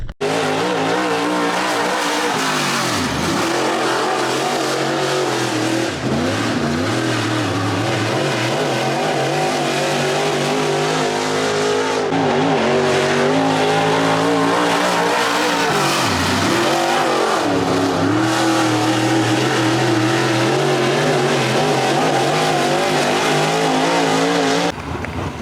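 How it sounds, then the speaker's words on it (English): A dirt late model race car at Lavonia Speedway revs hard and close to its rev limiter, giving a loud, continuous, near engine roar with rising and falling pitch sweeps and no talk over it. "I'm not full throttle, but you can hear me almost hitting the rev limiter"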